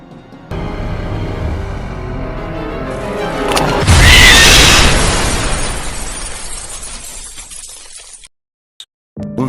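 Explosion sound effect from lightning blasts in a fan-made story: a shattering, glassy crash swells into a loud roaring blast, then fades into rumbling debris before cutting out.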